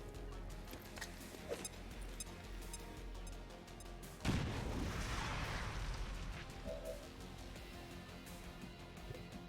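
Incendiary grenade fire in a Highlander mod campaign game: a sudden loud burst and roar about four seconds in, followed by a sustained crackling, rushing blaze over low background game noise.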